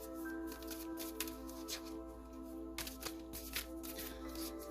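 A deck of tarot cards being shuffled by hand in a quiet room, with repeated riffling bursts and soft card slaps at an uneven rhythm over a faint steady electrical hum.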